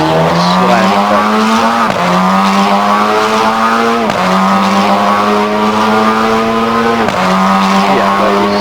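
A race car engine in Assetto Corsa screams loudly and steadily, its pitch climbing through the gears with sharp drops at each upshift, roughly every two to three seconds, while tire squeal blends into the roar.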